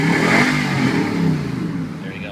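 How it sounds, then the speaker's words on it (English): A 2008 Nissan Titan pickup with a high performance exhaust revs up close by. The deep, throaty roar swells and then eases back during a couple of seconds of loud engine sound. "That's your high performance exhaust."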